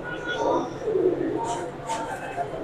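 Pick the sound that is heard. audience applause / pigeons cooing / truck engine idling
pigeons cooing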